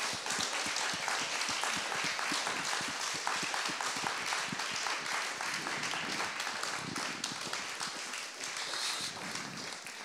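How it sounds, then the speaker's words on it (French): Sustained applause from an audience at a literary event, dense and steady clapping that continues throughout at moderate distance with no talk over it. "Je crois qu'on peut vous applaudir."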